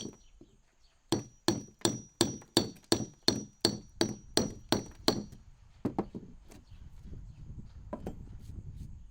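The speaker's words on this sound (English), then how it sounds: "So first we go with a cold chisel and just get all this stuff off." A cold chisel chips old mortar off bricks during a chimney rebuild, giving a fast, even series of about a dozen sharp ringing metallic strikes. A few slower, scattered taps follow, close and clear.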